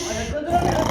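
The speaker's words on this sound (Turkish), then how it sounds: "Bu nasıl bir horlama sesi ya?" Loud snoring echoes from a living room, a rasping, snorting breath heard close and heavy.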